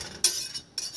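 A metal utensil stirs minced garlic in a pan, giving two quick clinking scrapes against the metal about half a second apart, fairly faint.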